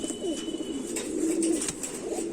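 Tested pigeons from a Sialkoti breeding pair coo softly and continuously nearby, low rolling calls over a steady background.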